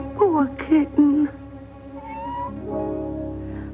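A kitten meows several times in quick, high, wavering cries near the start, then longer, softer drawn-out tones follow with some light background sound.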